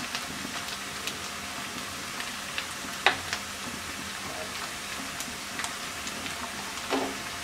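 Ginger garlic paste frying with onions in a pan for a potato and spinach curry gives a soft, continuous sizzle with a few light clicks and scrapes, fairly quiet and close, no voices.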